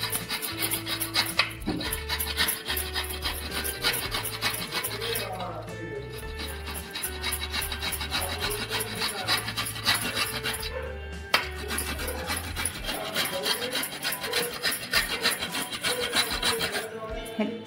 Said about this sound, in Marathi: आता आपल्याला हा पनीर याच्यामध्ये असा किसून घ्यायचा आहे।